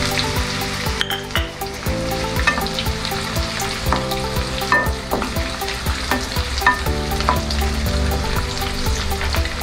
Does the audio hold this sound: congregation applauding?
no